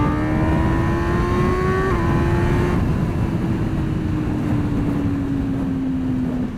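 An MV Agusta Brutale 1000 RR motorcycle engine whines steadily under heavy wind rush on the Assen track, then its pitch steps abruptly at a gear change and slowly falls away afterward.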